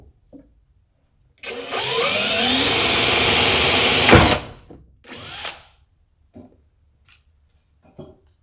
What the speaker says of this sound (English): Start with a small drill bit and work your way up to the one you have.